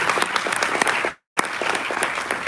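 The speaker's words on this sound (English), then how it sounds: "Another clap for her." An audience at a town hall meeting claps in sustained applause, cut by a short silent gap before the clapping resumes just as densely.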